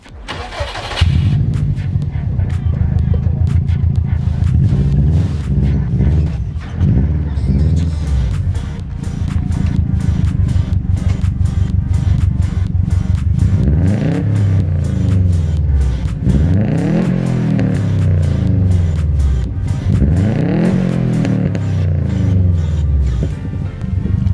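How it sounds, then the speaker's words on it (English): A turbocharged Subaru engine cranks and fires up, then revs repeatedly. The pitch rises and falls in several sweeping pulls, and the blow-off valve whooshes between revs, loud and close throughout. "I'll give you guys a couple of revs on this thing"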